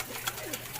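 Racing pigeons being loaded for a toss give a soft, brief coo that glides downward once, heard faintly over a steady low hum and background noise.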